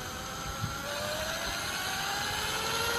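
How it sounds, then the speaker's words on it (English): A wheel on a shaft spun up to a few thousand RPM, giving a steady whirring drone with a rising tone that holds on throughout, close and moderately loud, no talk. "I'm going to spin this up to a few thousand RPM"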